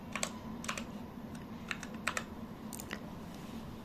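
Typing on a computer keyboard: a quiet string of crisp key clicks in short uneven bursts with brief pauses, close-up over a low steady hum.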